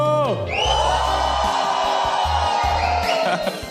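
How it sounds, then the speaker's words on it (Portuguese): Crowd at a 2019 conference event cheering, whooping and yelling loudly together, a sustained roar of many voices that holds steady for several seconds before tapering off. "E eu quero ouvir a galera fazendo barulho!"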